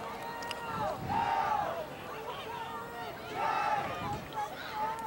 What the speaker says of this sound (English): And the Raiders still doing their chants